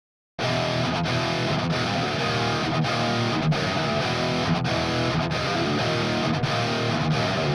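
Two distorted electric guitar tones blend into one thick, sustained wall of riffing with faint rhythmic dips, loud and continuous with no voice.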